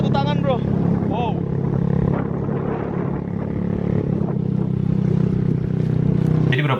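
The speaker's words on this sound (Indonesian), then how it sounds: "Gue naik motor satu tangan bro." A motorcycle engine hums steadily while someone rides one-handed on the way to a market, a constant mid-pitched drone with wind rumble, while people talk over it on and off.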